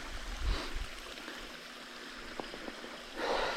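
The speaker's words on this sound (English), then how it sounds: "I'm about to go stick my bottle up under that waterfall right there and get me some water" Small waterfall beside a hiking trail in the woods, a steady wash of falling water with faint splashing, continuous and fairly close, no talking.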